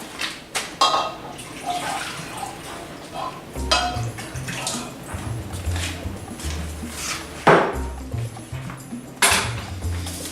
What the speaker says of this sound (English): We're going to put some of our water